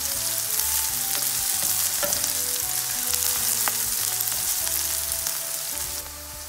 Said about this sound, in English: Add chopped onion and fry it for 2 minutes.